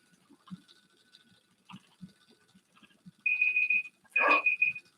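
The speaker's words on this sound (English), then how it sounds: "That's my timer." A kitchen-style timer alarm goes off with two bursts of steady, piercing electronic beeping, close and loud, after a stretch of quiet room sounds and soft movement.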